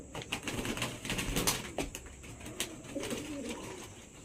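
A pigeon coos repeatedly in low, throaty bursts over steady background noise, close by and fairly loud.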